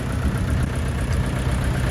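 A DTZ 5404 K mini tractor engine idles close by with a steady, loud, low rumble that holds even throughout, and no voices are heard.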